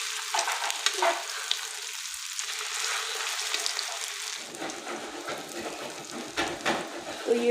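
Chicken shami kebabs fry in a pan with a bright, continuous sizzle and spattering, loud and near, with faint stirring or flipping noises partway through and no talking.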